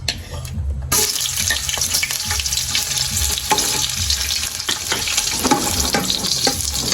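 Garlic and meat sizzle and fry steadily in a pan with stirring scrapes, a loud continuous crackle that starts about a second in and holds throughout, for a Filipino mung bean stew (ginisang monggo).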